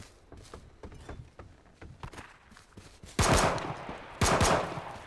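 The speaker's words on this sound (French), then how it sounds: "Ok, j'ai shooté 2 balles sur un mec là." Gunshots in the battle royale game H1Z1: a scatter of quieter, more distant shots followed by two loud, close bursts about a second apart.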